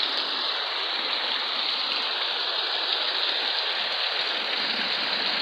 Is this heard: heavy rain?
yes